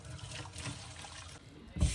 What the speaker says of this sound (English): here I am just rinsing it out with cold water